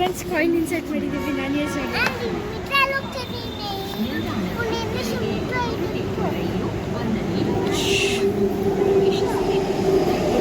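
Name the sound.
metro train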